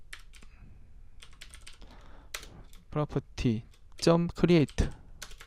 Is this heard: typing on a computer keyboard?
yes